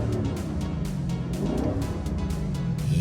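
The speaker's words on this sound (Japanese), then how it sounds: "そしてエンジン音。" A new Lexus LC500 engine gives off a low, steady rumble throughout, close and fairly loud, with faint clicking sounds scattered over it.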